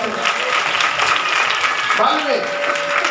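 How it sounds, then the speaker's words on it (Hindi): A church congregation clapping hands together in praise during a Hindi sermon, a dense, loud, continuous round of applause mixed with voices talking. "ताली बजा के प्रभु के नाम को महिमा"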